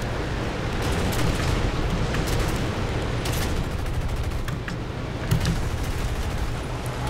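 Gunfire in the tank video game War Thunder, a dense continuous stream of sharp rapid shots and rumbling blasts at steady high loudness, crackling bursts layered over a low roar.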